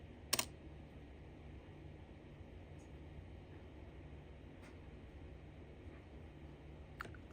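A few sparse, light keystrokes on a small computer keyboard while entering commands for a Raspberry Pi 4B, with isolated taps at irregular intervals over a quiet room hum.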